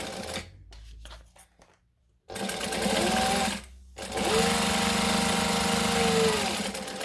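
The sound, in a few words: sewing machine stitching along fabric bottom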